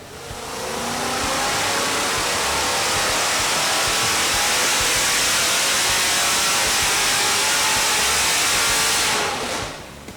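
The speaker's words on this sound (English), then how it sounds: "Let's check out one of the customer's big block Chevrolet power plants running today." A customer's 540 cubic inch big block Chevrolet Merlin engine runs hard on a dyno, a dense, loud, roaring drone held steady for about nine seconds before cutting off.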